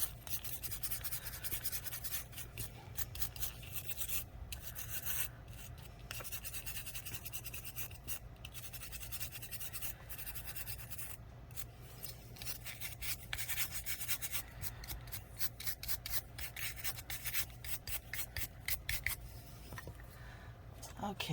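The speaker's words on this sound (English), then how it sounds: "So let's now use our brush," Soft brush strokes sweep excess dip powder from freshly coated nails during a tie-dye swirl marble manicure, giving a continuous close rubbing and scratchy swishing with a low steady hum beneath.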